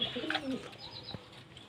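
Pet pigeons coo during a bath on a hot day, a few soft throaty coos up close with faint chirps and rustling afterward.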